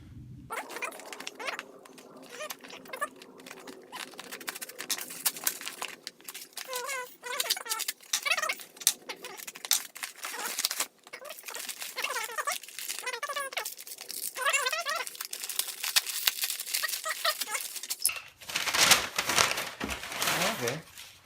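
Plastic packaging crinkles and rustles as a shift extender is unwrapped, long stretches of close, busy crumpling broken by short pauses, with a voice talking over parts of it.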